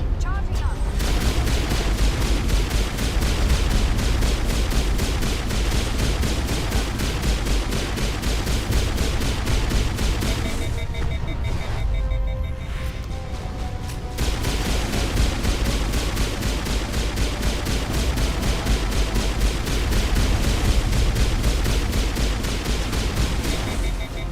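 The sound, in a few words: Citadel defense turret firing in Mass Effect video game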